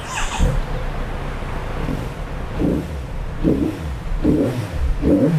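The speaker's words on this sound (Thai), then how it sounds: "ให้ฟังเสียงเครื่องยนต์กันหน่อยนะครับ" A 2018 Kawasaki Z900 RS four-cylinder motorcycle engine idles low and close, then gets a few short throttle blips that swell and fall back.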